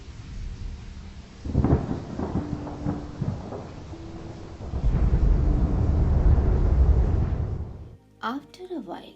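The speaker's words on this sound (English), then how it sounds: "After a while, the steady drumming of the rain began to slow." A summer thunderstorm with rain, deep thunder rumbles swelling and rolling beneath a steady hiss of rain, with a loud sustained stretch near the end, heard under a calm storytelling voice.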